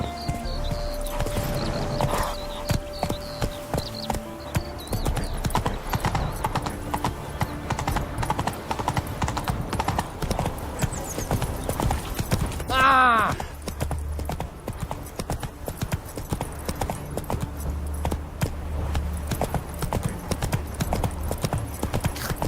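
Roach, the horse in The Witcher 3, gallops with rapid, steady clip-clop hoofbeats close by for the whole stretch, a whinny rising midway, over continuous game ambience and music.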